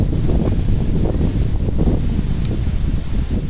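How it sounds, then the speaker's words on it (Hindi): Strong outdoor wind buffets the microphone in a loud, continuous low roar with gusty surges throughout, alone with no voices. "गाइस बहुत तेज हवा चल रही है यहाँ पे"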